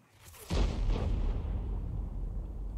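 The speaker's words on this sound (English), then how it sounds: "And he's going to fire from this position." A tank main gun fires in a World of Tanks-style battle game, the M53/M55 artillery, with a single heavy, booming shot that swells loudly and then rolls on as a long, low rumbling echo.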